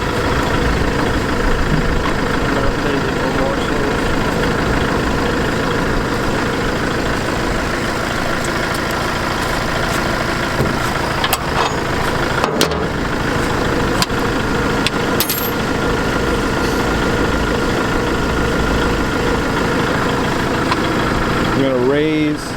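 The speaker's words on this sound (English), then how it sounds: "Now he's gonna let it idle while it's parked." A parked tractor's engine idles steadily and continuously at close range, a constant mechanical drone with occasional clanks over it.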